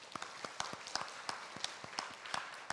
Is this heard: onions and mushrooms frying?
no